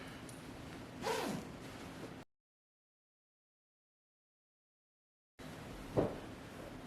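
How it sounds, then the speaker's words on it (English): A cold-weather sleeping bag rated for -20 F is zipped in two short, close rasping pulls separated by a gap of silence. "All right, let me zip it up."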